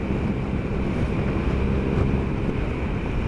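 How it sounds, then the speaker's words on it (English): Steady wind buffeting the microphone while riding a BMW R1200RS motorcycle near the Cornish coast between Probus and St Mawes, a constant loud rush with low rumble and no talking. "You can tell we're getting a bit closer to the coast because it's getting windy."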